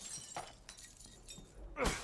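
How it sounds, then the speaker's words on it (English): Glass shatters in Resident Evil Village, a few faint crashes and tinkles followed by a louder burst of breaking at the end, with no speech. "I'm just like breaking glass here and there, opening windows"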